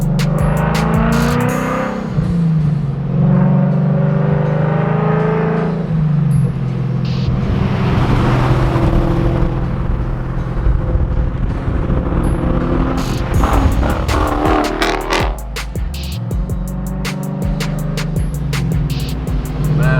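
A full-bolt-on Ford Mustang GT on E85 fuel revs hard on a dyno, holding a loud, rising roar with deep rumbling throughout and a brief drop near the end before it climbs again.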